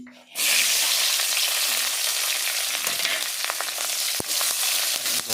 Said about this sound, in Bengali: আরও কিছু পরিমাণ তেল দিয়ে দেওয়া হলো কড়াইয়ে এবার দিয়ে দেওয়া হবে পেঁয়াজ লঙ্কাগুলো